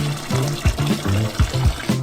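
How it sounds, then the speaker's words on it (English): Water runs into a plastic basin in a kitchen, making a close, bubbly gurgle with pitched glugs and splashes that shift as the basin fills. "In one, we put water."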